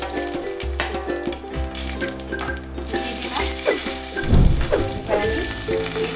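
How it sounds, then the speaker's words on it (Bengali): Nigella seeds and dried red chillies dropped into hot oil for tempering a fish curry, crackling and sizzling steadily, with clinks and crisp pops that swell into a louder burst partway through. "কালো জিরে আর এই শুকনো লঙ্কা ফোড়নটা দিয়ে দেবো তেলের উপর"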